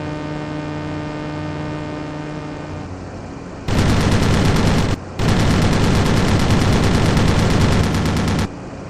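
Sustained machine gun fire in a WWII flight combat video game: loud rapid bursts over a steady engine drone, one long volley broken by a brief pause, then another long burst before the drone returns.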